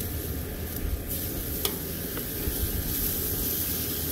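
Surf and turf sizzles loudly and continuously on a hot grill right after being flipped. The dense frying hiss is broken by a couple of faint clicks and taps.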